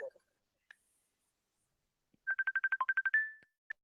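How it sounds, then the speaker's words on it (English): A mobile phone rings with a quick series of steady electronic tone pulses, rising into one longer held note, clear but fairly quiet against an otherwise silent room, preceded by a brief burst of talk. "that's just my phone."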